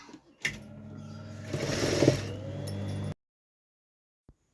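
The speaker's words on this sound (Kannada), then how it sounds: "ಇವಾಗ ಸೆರೆಗೂ ಹೊಲಿತಾ ಇದ್ದೀನಿ ಫಾಲ್ಸ್ ಎಲ್ಲನೂ ಸ್ಟಿಚ್ ಮಾಡಬೇಕು" Sewing machine running steadily while stitching the falls onto a saree pallu, a close, continuous mechanical whir with rhythmic stitching that stops abruptly after about three seconds, followed by silence and one faint click.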